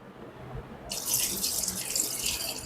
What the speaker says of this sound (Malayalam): വെള്ളം എടുത്തൊഴിക്കുകയാണ്.